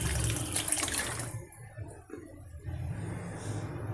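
Water poured into a pot while cooking, a close splashing gush for over a second, a brief lull, then more trickling and splashing.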